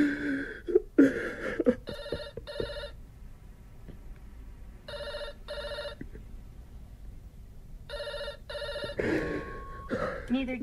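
A telephone bell rings in three separate double bursts with pauses between, clear and fairly close, with a gasp and other voices heard around the rings.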